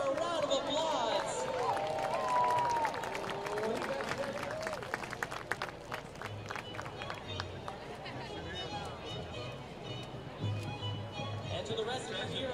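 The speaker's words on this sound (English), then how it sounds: "Everybody give her a round of applause." A crowd at a minor-league baseball game between the Missoula Paddleheads and Oakland Ballers at Raimondi Park claps and cheers steadily under a PA announcer's amplified voice, with the applause fading into general crowd murmur.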